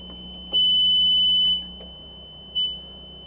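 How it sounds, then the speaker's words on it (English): A Bobcat T76 R-Series loader's cab alarm, set off by an electrical issue, sounds a steady high-pitched warning tone for about a second, then a shorter beep follows, over low engine rumble. "but the cab alarm is still going off"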